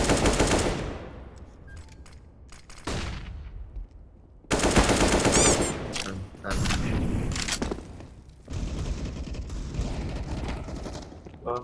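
Several loud bursts of automatic gunfire from CS:GO crack out in separate volleys with short silent gaps between them, each burst sharp and close.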